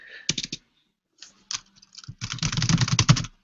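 Fingers type on a computer keyboard in short bursts of close clicking keystrokes, ending in a quick, dense run.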